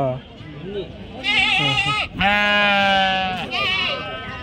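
Sheep and goats bleat loudly and close at a busy Saturday livestock market in Angallu, several long wavering cries overlapping one after another.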